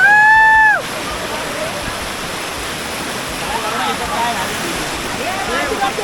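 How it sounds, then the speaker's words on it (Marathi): Waterfall at a hidden spot splashing and rushing as broadband, steady noise for several seconds after a short whistle-like tone at the start; voices are faintly mixed in. "धबधब्याचा आनंद घेतोय"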